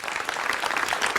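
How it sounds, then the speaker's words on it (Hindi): Loud, dense applause from a studio debate audience on a Hindi news show, steady and continuous throughout with no talk over it. "जोरदार तालियों के साथ अभिनंदन करिए कन्हैया मित्तल का"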